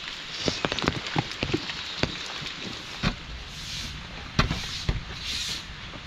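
Rain falls on a Pune morning, a steady close patter with scattered sharper drips and taps striking nearby surfaces, no voices.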